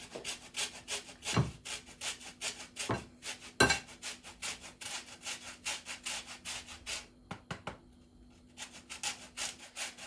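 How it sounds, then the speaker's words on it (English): A lemon's zest is scraped off with a zester in a kitchen, making quick rhythmic rasping strokes, faint and close, repeated steadily with a short pause near the end. "So you are literally only taking the zest off."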